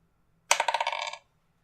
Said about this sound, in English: Anyway, roll the dice.